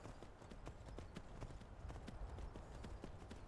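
Horse hooves clip-clop in the video game Skyrim, a quick, steady rhythm of light hoofbeats over a busy, faint game background with no talking.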